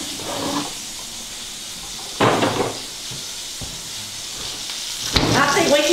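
French toast sizzles in a pan with a steady hiss of frying, with louder bursts of spattering and some stirring clatter, heard close up and alone.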